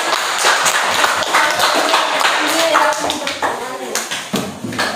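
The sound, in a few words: audience applause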